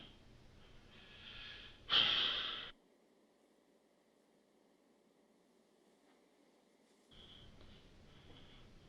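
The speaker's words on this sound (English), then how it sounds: "You're breathing kind of heavy" Heavy, audible breathing from a man during a police interrogation, a loud snorting inhale partway through, then near silence before quieter breaths resume close to the microphone.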